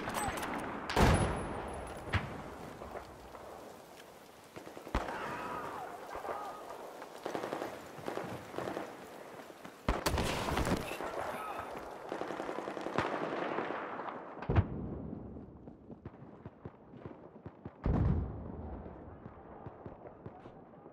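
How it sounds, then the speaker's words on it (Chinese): Bursts of machine gun and rifle fire in the shooter game Battlefield 4, sharp loud volleys at irregular intervals with quieter stretches between them, some shots close and others more distant. "敌机枪就在这里"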